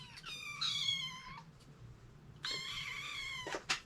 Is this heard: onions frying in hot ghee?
no